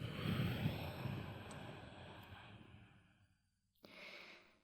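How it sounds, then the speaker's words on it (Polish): Deep, complete yoga breathing with audible sound: a long, soft breath close to the ear fades into near silence, then a fresh breath begins, all quiet and unhurried. "Śmiało dodaj dźwięk do oddechu kompletnego i praktykuj sobie z tą techniką oddechową."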